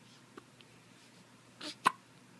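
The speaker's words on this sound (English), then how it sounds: "Listen to these little hiccups." Small hiccups come close by, one faint catch early, then a soft breathy sound and a sharp, distinct hiccup near the end, with quiet room tone between and nobody talking.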